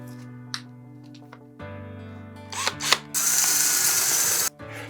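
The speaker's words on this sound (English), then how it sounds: "So there's the first hole drilled." A power drill whirs steadily, then a loud burst of high, hissing grinding as the bit bites through polystyrene, stopping abruptly.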